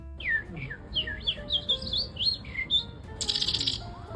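A string of quick, high chirps and whistled trills, like a person mimicking birdsong, followed by a burst of bright, hissy twittering near the end.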